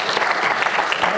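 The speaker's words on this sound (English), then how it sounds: "I think that deserves a round of applause." Audience applause at a UNESCO panel discussion on Auroville, a steady dense patter of many hands clapping close and loud throughout the short burst.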